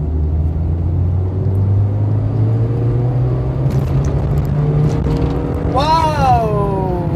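Toyota Etios Valco on new R15 185/65 tyres overtaking a large vehicle: a steady low engine and road rumble builds, then a rising whine or horn-like sweep near the end as it passes.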